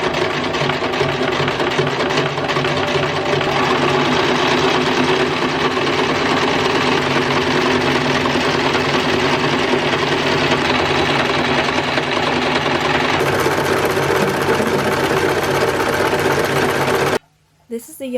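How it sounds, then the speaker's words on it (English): Sewing machine running steadily, zigzag stitching blue yarn onto garment sleeves in stripes, a continuous loud whirring hum that stops abruptly near the end with a brief clatter. "I'm going to zigzag stitch this onto the sleeves in stripes."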